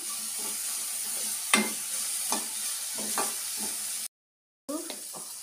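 Ridge gourd frying in a pan with salt and turmeric gives a soft, steady sizzle and hiss, with a few sharp stirring scrapes along the way and a brief drop to silence partway through.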